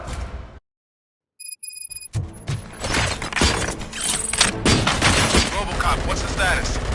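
Gunfire in the video game RoboCop: Rogue City: after a short silence, dense rapid bursts of shots and mechanical clatter build into sustained loud firing, with a voice speaking over it.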